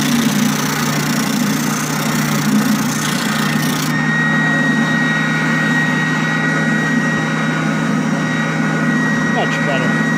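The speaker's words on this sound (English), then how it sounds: "I'm going to go ahead and run it on my oscillating spindle sander, kind of open up that hole just a little bit" An oscillating spindle sander runs steadily while widening a hole in a scrap-wood hardware organizer, giving a constant close motor drone with a faint whine and no pauses.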